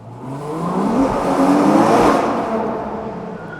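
A Ferrari Purosangue engine drones steadily from inside the car as it drives into a tunnel, a loud, sustained road and engine roar that swells a little midway and fills the whole stretch without any voices.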